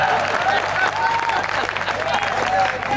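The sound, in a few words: audience applause at a Hindi poetry gathering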